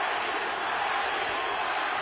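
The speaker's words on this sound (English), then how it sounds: "Filipino crowd chanting for their man, hoping for a dramatic last-round knockout" A Filipino crowd chants at a boxing match between Manny Pacquiao and Marco Antonio Barrera, heard as a steady, distant roar that fills the arena evenly without breaks.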